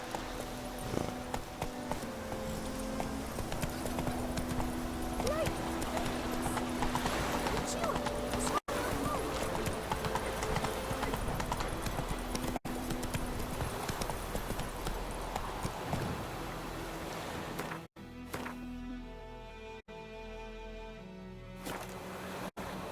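A horse in The Witcher 3 gallops with rapid, rhythmic clip-clop hoofbeats that run steadily and fairly close, then slow and fade, with game sounds underneath.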